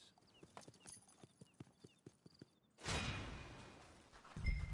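Horse hooves clip-clop at a steady walking pace in Red Dead Redemption 2, a crisp string of close hoofbeats that gives way to a broad whooshing rush and a faint whinny.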